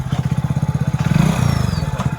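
A motorcycle engine runs close by with a steady, rapid low throb that swells slightly in the middle as it revs, then settles again. No voices are heard.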